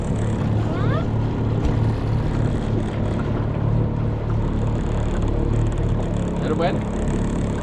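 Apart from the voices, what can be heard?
motor dinghy running on the water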